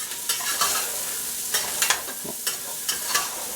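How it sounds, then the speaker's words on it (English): Half a diced onion sizzling with smoked sausage in a stew pan, a constant hiss broken by repeated sharp scraping stirs at irregular intervals, close and clear with no voices. "I've got about a half of a onion that I've diced up, and I'm going to throw that in"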